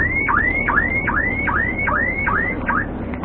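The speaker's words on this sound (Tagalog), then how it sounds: "Ayan, nag-alarm na guys." Viking aftermarket car alarm fitted to a Suzuki Alto 800 wails in a fast repeating whoop, seven rising-falling siren cycles in steady rhythm, loud and close with no talking.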